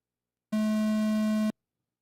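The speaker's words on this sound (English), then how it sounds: "Next sound you hear will be the start of your Masters Truck B-main." A single electronic start tone for an RC Masters Truck B-main at a 1/8 electric off-road nationals race sounds as a steady, pure beep lasting about a second, clean and alone against silence.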